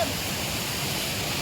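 Badaghagara waterfall in Keonjhar pours in a steady, dense roar of rushing water, loud and continuous with no breaks and no voices.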